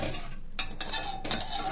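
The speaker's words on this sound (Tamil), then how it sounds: "இதை நல்லா கலரி விடுங்க, வேகட்டும்" A spoon clinks and scrapes against a pot while aval (flattened rice) cooks in milk, giving a few distinct stirring strokes with metallic taps between quieter gaps.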